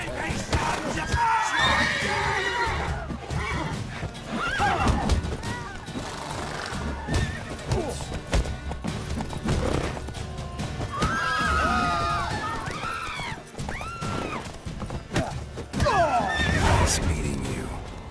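Geralt's horse Roach in The Witcher 3 neighs and whinnies several times, with clip-clopping hooves underneath and a voice talking over much of it.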